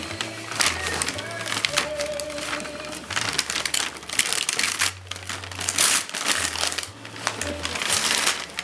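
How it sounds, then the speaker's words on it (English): Wrapping paper on a big Christmas present crinkles and tears in repeated close bursts as a child works at unwrapping a toolbox, with low hum and occasional voices around it. "it's so big, it's hard to unwrap"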